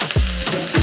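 Chicken breast hitting hot oil in a pan, a brief close sizzle with soft thumps as the pieces settle.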